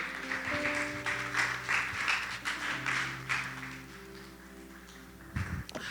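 Church congregation gives a loud round of applause, sustained clapping with swells and rhythmic bursts over a held low tone from music, ending with a few sharp claps.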